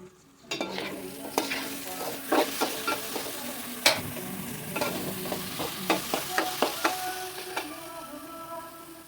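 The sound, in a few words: jeerakasala rice roasting in ghee, stirred in a pan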